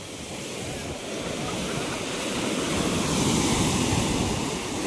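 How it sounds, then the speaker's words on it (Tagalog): Big stormy ocean waves surging around moored fishing boats during a typhoon, a loud continuous roar of surf and wind that swells slightly louder midway. "Lalaot pala mga kuya, ang laki-laki ng alon."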